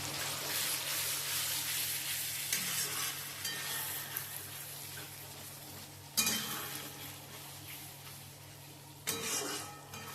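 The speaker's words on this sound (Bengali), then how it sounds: "এবার এটাকে নাড়াবো।" Shahi paneer sizzles steadily in a frying pan while it is stirred, with a constant close frying hiss and occasional scraping bursts from the spoon, with no talking.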